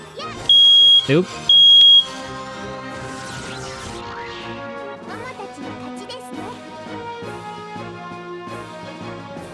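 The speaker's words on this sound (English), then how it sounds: "they had to test my smoke alarm" A smoke alarm sounds during a test, giving two loud, sustained high-pitched beeps close by while a game plays in the background. A person exclaims briefly between the beeps.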